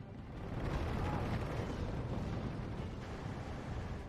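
Rumbling explosions from aerial bombing runs in the World War II strategy game Steel Division 2, a dense continuous roar of blasts lasting about four seconds with no talk over it.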